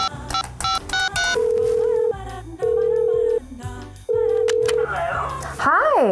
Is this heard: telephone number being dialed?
yes